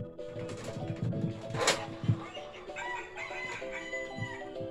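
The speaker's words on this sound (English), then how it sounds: "Yeah, that's a rooster." A rooster crows loudly and nearby in one long cock-a-doodle-doo, with a few short clucks and other fowl sounds around it.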